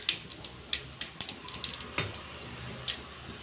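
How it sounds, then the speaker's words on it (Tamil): Sharp, irregular pops and crackles, like mustard seeds bursting in hot oil, scattered quickly over a soft sizzling hiss. "நல்லா பொரிக்கும் கடுகு"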